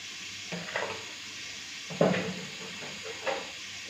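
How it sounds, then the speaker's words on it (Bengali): Catla fish pieces being rubbed by hand with salt, turmeric and a little mustard oil, three soft, wet squelching bursts over a quiet background hiss, close to the microphone. "মাছটাকে ভালো করে মেখে নিই"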